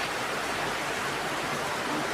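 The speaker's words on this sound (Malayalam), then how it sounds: "നല്ല മഴയുടെ സൗണ്ട് ഉണ്ട്" Dense, constant roar of heavy rain pouring down, loud and unbroken from start to finish.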